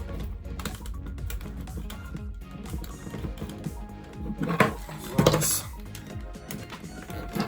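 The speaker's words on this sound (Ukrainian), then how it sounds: "можна зробити, щоб фільтр просто ну, сюди закриваємо заглушку" Small plastic clicks and tapping as the plug cap is fitted onto an Atman SIF-500 internal aquarium filter, close and fairly quiet, with a couple of sharper knocks near the end.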